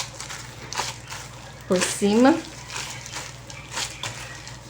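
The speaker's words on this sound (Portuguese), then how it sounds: "Peço desculpas pelo barulho da luva, né?" Rubber kitchen gloves squeak and rustle while handling sourdough Italian-style bread dough in a bowl, soft crinkly squishing through the clip with a brief louder burst of voice in the middle.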